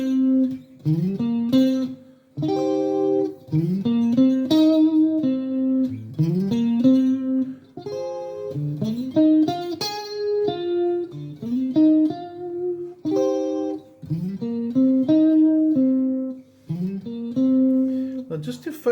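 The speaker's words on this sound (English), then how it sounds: "Now I'm going to play through the complete Pentatonic 2 riff," A guitar plays a blues-rock pentatonic riff, bending and sliding repeated phrases in a steady rhythmic cycle, close, clean and loud with no voices.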